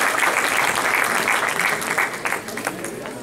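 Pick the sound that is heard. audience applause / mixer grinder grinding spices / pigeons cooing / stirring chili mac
audience applause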